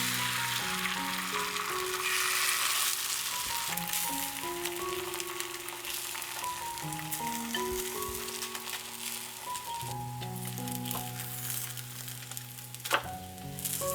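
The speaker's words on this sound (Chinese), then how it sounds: "可以多煎一会儿，这样饼皮会更加酥脆。" A breakfast burger crust topped with egg and a cheese slice pan-fries, keeping up a soft, even sizzle throughout with gentle background music.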